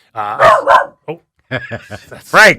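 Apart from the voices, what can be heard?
dog barking at passing traffic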